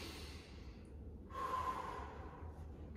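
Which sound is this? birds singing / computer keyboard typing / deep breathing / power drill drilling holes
deep breathing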